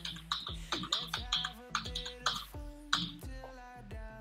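Someone types an Aadhaar number on a computer keyboard: a quiet, irregular run of light key clicks, close up and with no talk.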